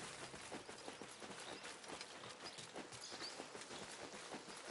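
Horse hooves clip-clopping at a steady riding pace in Assassin's Creed Mirage, a faint, continuous rhythmic patter with no talk.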